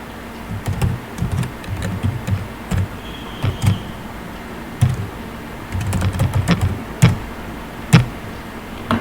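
Typing on a computer keyboard while entering a company address in accounting software, with bursts of close, crisp key clicks, scattered single taps and heavier strokes, and no speech.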